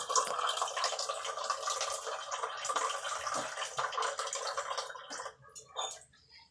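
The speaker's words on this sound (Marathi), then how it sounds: "असं थोडंसं पाणी शिजण्यासाठी लागते ना, त्याच्यामुळे थोडं एक्स्ट्रा टाकायचं." Water poured into a pan of drumstick (shevga) vegetable curry, a steady splashing pour running for several seconds, close and fairly loud, then tapering off near the end.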